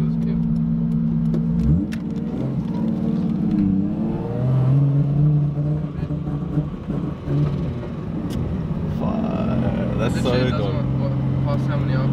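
A Nissan S15 engine revs up and down repeatedly to about 3,000 RPM, rising and falling in pitch, close and loud, while people talk in between.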